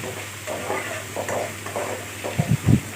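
Hog plum flowers and small fish frying with spices in a pan, a steady close sizzle with stirring scrapes and a few louder clatters of the spatula near the end.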